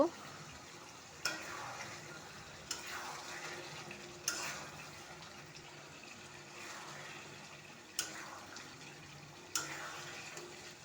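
Moong dal beef curry cooks in a pan after ten minutes on high flame, stirred in regular scraping sweeps about every second and a half over a soft, continuous simmering sizzle.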